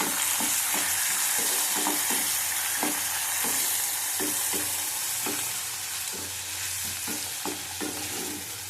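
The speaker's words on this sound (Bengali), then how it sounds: "চিনি দিলাম, ভেজে নেবো ভালো করে" Sugar frying in hot oil to add colour for a coconut-milk chicken malai curry, giving a steady close sizzle with repeated light stirring clicks throughout, no voices.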